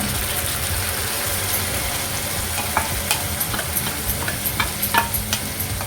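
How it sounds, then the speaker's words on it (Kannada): Ground masala sizzles in ghee while paneer ghee roast is being made, a steady close frying hiss with soft rhythmic stirring taps and scrapes from a spoon in the pan, and no talk. "ಈ ಮಸಾಲೆ ಚೆನ್ನಾಗಿ ಇದರಲ್ಲಿ ತುಪ್ಪದಲ್ಲಿ ಚೆನ್ನಾಗಿ ಫ್ರೈ ಆಗಬೇಕೀಗ"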